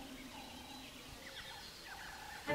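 A bird in the Omo valley of Ethiopia gives a sequence of shrill, chattering calls at moderate distance, several short rising-and-falling notes spread over a couple of seconds against a faint outdoor background.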